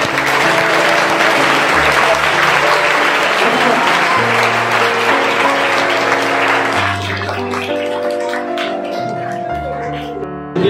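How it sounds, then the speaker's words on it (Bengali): Sustained loud applause from a crowd honouring a teacher at the Gyan Jyoti Award 2024 ceremony, steady clapping across the whole stretch with music playing over it and gradually easing toward the end. "স্যারের জন্য একটা বড় করে করতালি তোমাদের জন্য করছি"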